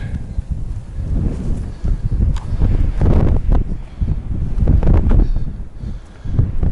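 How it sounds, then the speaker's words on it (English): Wind gusts across a mountain trail, buffeting the microphone with a steady low rumble that swells and eases, with faint rustling underneath. "That darn wind is picking up again."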